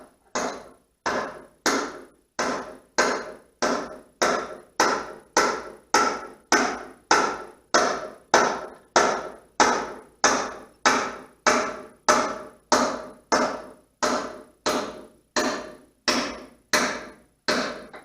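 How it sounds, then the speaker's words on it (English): A metal part on a backhoe under repair is struck by a hammer about two dozen times, the sharp, ringing blows falling in a steady, even rhythm, close and loud, with no talking. "So we'll hammer it back out this other way."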